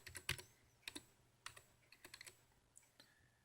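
Light typing on a Windows 10 computer keyboard: a few scattered keystrokes, then a quick cluster of taps, all close and clear in an otherwise quiet room.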